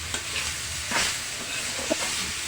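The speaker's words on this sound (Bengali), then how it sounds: "নারকেলগুলো আমি একটু ভালো করে ভেজে নেব।" Grated coconut with jaggery and a small cardamom fries over low heat in a pan, a steady soft sizzle broken by a few scraping stirs and light clicks of the spatula, no voices.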